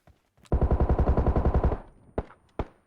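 Rapid automatic gunfire in PUBG Mobile: a burst of about a dozen close, punchy shots, followed by two separate single shots.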